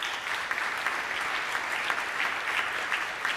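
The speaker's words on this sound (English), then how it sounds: "Please join me in giving all of our inductees a round of applause." Steady audience applause fills a middle school honor society induction ceremony, a dense, even patter of many hands clapping together for the inductees throughout.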